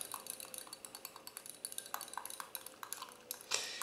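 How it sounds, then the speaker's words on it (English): Yeast stirred with a whisk in a bowl, a quick run of light, rapid metallic clinks and taps against the bowl's sides, fairly faint and steady, with a louder scrape near the end. "give that a little whisk"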